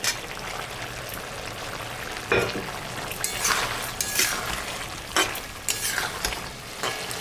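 Fried lata (snakehead) fish being added to a pan of curry (rasa) as it sizzles steadily, with a few louder clatters and stirring bursts over a continuous frying hiss, no talking.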